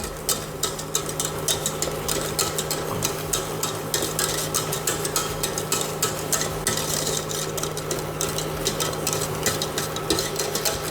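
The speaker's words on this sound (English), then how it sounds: "you're just stirring it for long enough just till you get the crystals out of the sugar and it all dissolves together" Pecan pie filling with brandy is stirred steadily in a pot until the sugar dissolves. A continuous soft scraping comes in even, rapid strokes at close range, with no talk.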